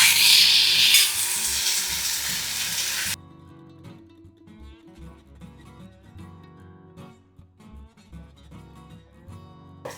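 Val beans hit hot oiled masala with a loud hiss, then settle into a quieter sizzle while a spoon stirs and scrapes the pan in uneven strokes; no talking.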